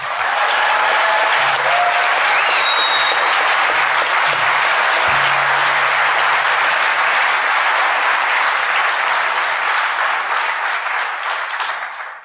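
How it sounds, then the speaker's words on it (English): A large audience at the DEF CON hacker convention breaks into loud, sustained applause for two congressmen, a dense wash of clapping that holds steady for about twelve seconds before tapering at the end. "let's give it a huge round of applause for these 2 pioneers"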